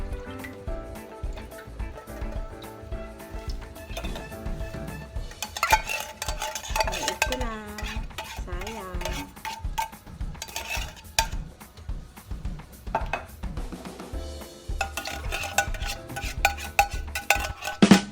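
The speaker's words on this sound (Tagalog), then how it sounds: "So, habang pinapakuluan natin siya, i-stir lang natin para hindi siya ganun magdikit sa ilalim." A spoon scrapes and swirls through coconut milk heating in a pan, with steady clinking and scraping against the metal going on close by for several seconds, joined by a faint bubbling simmer.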